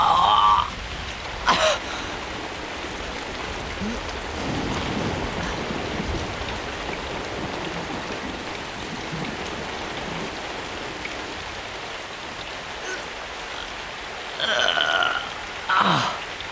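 Steady rain hisses throughout at moderate level, with a few short louder bursts near the start and end.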